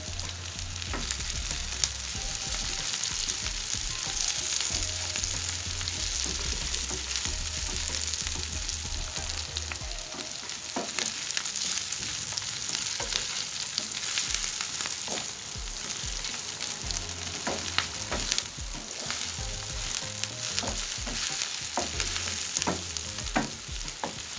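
Meat and tomato paste sautéing in a pan for a potato and meat sauté: a steady, close sizzle and crackle with frequent stirring scrapes, continuous and with no voice throughout.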